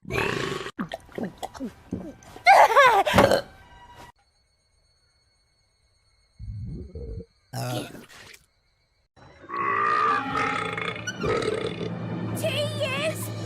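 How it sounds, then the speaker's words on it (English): A person belches loudly in a couple of bursts, with voices and laughter around it and a noisy, busy stretch of talk and sound following after a short silence. "I would really like to belch right now"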